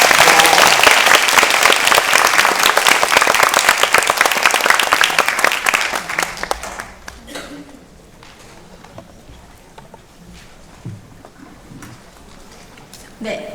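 Loud audience applause for a student mentor's presentation at a National Assembly suicide prevention forum seminar, dense clapping that fades sharply after about seven seconds into quieter room sounds and scattered noise.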